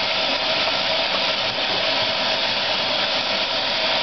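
Tap water pours steadily as hands are rinsed, a continuous close broadband rush with no breaks and no voices.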